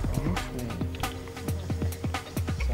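Flies buzz continuously around a fishing spot during a mixed third-division angling championship at Nevers, with several close passes sweeping by loudly over a steady outdoor background.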